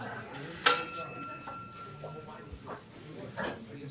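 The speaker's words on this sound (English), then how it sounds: "Just heard a bell." A single sharp bell strike rings out near the start and its bright, sustained tone fades over a couple of seconds, heard over a quiet room background with faint voices nearby.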